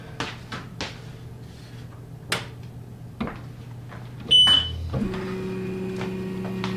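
An xTool S1 laser engraver powers up: clicks and taps, a short high beep, then a steady low electrical hum settles in.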